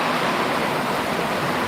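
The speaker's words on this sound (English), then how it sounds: "That water is just like gushing out." Rainwater gushes hard out of a downspout in a steady, loud rushing wash, close by and without pause.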